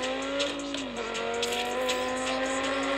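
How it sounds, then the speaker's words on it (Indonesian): McLaren 720S Spider engine in the Need for Speed Mobile racing game, a loud continuous high-revving roar that dips briefly as the pitch shifts, then climbs again. No voices. "suaranya mantap jiwa juga ya 720S Spider ini"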